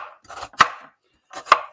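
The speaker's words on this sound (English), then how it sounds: "So I'm literally roughly chopping, not finely," An onion being roughly chopped with a knife on a board, two short bursts of quick, crisp cuts separated by a brief pause, close and clear with no talking.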